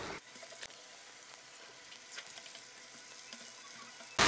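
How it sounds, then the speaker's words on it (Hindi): Vegetables and spaghetti sizzle steadily in a hot pan, a continuous close hiss and crackle that keeps an even level throughout, with a louder burst right at the end. "हमारी तो वेजिटेबल्स होगी फ्राई"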